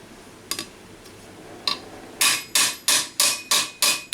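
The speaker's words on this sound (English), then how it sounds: "to compress the material between the hammer and the anvil" A hammer strikes metal armour against an anvil, a few spaced taps and then a steady run of six loud, ringing blows in an even rhythm, close up with no talking.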